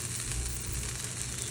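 Virgin cooking oil poured over food already frying in a pan for ragada chaat sets off a dense, continuous sizzle that is loud, close and steady throughout, with no one speaking.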